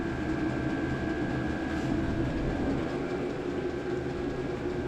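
A diesel heater runs in an off-grid mini cabin, giving a steady, moderately loud mechanical hum and whir with a faint tonal whine and no pauses.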